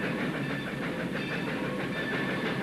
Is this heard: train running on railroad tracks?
yes